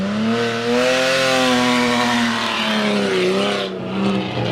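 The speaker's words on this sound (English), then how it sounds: "Failed ass burnout right there." A BMW revs hard at the start of an attempted burnout, its engine holding a loud, steady high drone with wavering pitch, then dipping and surging again near the end.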